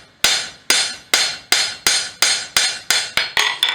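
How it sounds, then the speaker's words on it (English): Ten ringing hammer blows land in a steady rhythm as the flat face of a hammer strikes hot steel on an anvil while forging a skillet handle. Each strike is loud and close, with a sharp attack and brief decay, and the last few come a little faster. "We're going to use the flat of the hammer again and clean that out."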